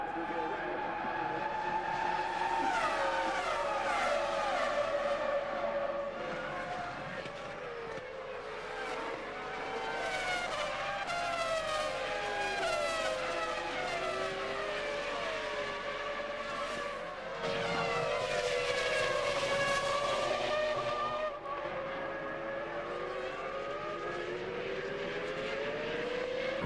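Formula One cars at Silverstone in the 2001 British Grand Prix scream past in repeated loud passes, engine pitch rising and falling as they approach and recede, with a commentator talking throughout.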